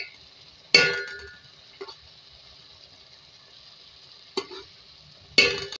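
Chicken, onions and tomatoes cook in a pot with a faint steady sizzle, broken by a few sharp metallic clinks of a utensil against the pot, close by with no talk.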